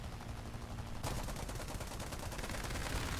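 Rapid machine gun fire from a War Thunder dogfight, likely a Spitfire against a BF-109K, hammering out in a fast continuous burst that grows louder and denser partway through, with no voices.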